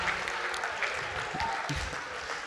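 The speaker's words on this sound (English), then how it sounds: "Please let's give a rousing applause, please." Audience applause for the parents of children being recognized at an event, steady clapping throughout with faint voices underneath.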